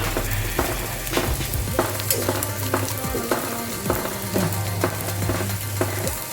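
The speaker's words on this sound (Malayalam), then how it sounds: "നമുക്ക് ഓരോ പൊറാട്ടയും ഒന്ന് ഫ്രൈ ചെയ്തെടുക്കാം" A porotta frying in ghee on a hot tava, a steady close sizzle broken by repeated clicks and scrapes of a spatula turning and pressing it, with no talk.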